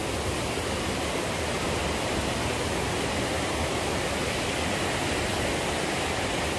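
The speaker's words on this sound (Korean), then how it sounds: "물소리가 아주 우렁차네요." A mountain waterfall on Daeyasan, swollen after heavy rain, roars in a dense, unbroken rush of falling water. It is loud and constant, with no voices.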